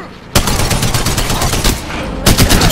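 Rapid gunfire in Apex Legends strikes the player, a dense, loud burst of shots lasting about two seconds, followed by a short gap and then a second burst.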